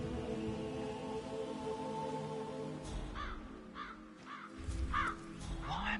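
Crows caw in the Hitman video game, several harsh calls in a loose series over a low background murmur, moderately near.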